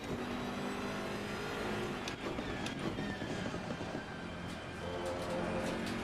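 A racing car engine in a sim racing game, a steady droning whine held throughout at low level with faint clicks, no voices over it.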